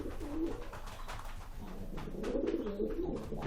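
A sprint pigeon coos in low, throaty rolling phrases, close and fairly loud, repeating across a few seconds with no talk.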